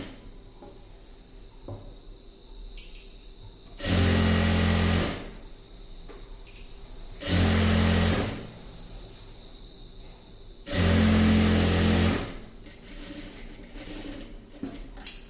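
A sewing machine joins pieces of a chudi pant in three separate bursts of rapid stitching, each lasting one to two seconds, with quiet handling and fabric shuffling in the pauses between.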